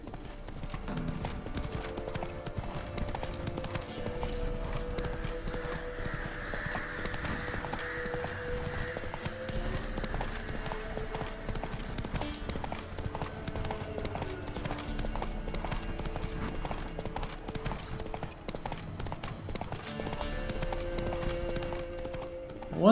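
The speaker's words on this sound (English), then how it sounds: "There's always this horse blocking the road." Horse hooves clip-clop steadily in The Witcher 3: Wild Hunt near the Lindenvale stables, a continuous rhythmic trot heard under in-game music and ambience.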